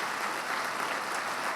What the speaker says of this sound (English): Spontaneous applause.